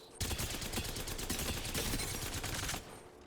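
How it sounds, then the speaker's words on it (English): Rapid automatic gunfire at training dummies on a firing range in Apex Legends, a sustained burst of fast shots for nearly three seconds, then stopping abruptly. "Turn on the dummies. Go to, I think, yeah, far. And you can shoot the dummies."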